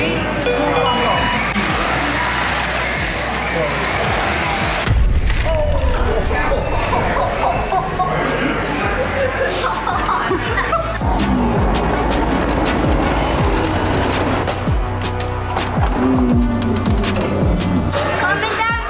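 Several RC cars race around inside a store, their motors whining and buzzing continuously amid loud overlapping voices and background commotion.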